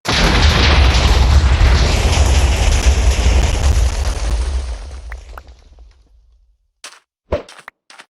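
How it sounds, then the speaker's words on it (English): A Minecraft TNT block detonates in a big, loud boom with a long rumbling decay that fades out over several seconds, followed by a few brief, sharp pops near the end. "here fuse 50 provides a 50 tick delay before the explosion"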